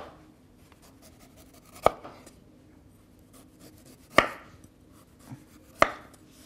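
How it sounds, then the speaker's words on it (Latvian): A knife chops through peeled celeriac root on a cutting board, three sharp, loud, isolated strikes spaced a couple of seconds apart, with faint handling noise between them. "Un seleriju arī sagriežam"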